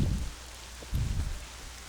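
Rain in the online game Black Desert Online, a soft low patter with two heavier swells, steady and close, with no voices.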